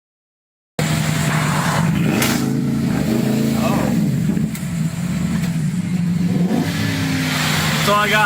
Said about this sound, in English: A rev off.